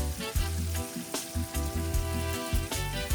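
Pork pieces frying and browning in a pot for Jamaican brown stew, a dense crackling sizzle with bursts of sharper pops and spatters, close and steady.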